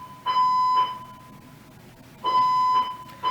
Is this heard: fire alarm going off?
yes